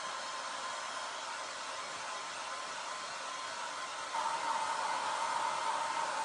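A hair dryer runs steadily as a continuous airy whoosh, close and moderately loud, stepping up slightly in intensity partway through.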